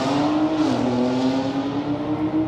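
A Peugeot 406 BTCC race car engine at a drag strip holds a loud, steady drone close by, its pitch dipping slightly early on and then holding level, with no talk over it.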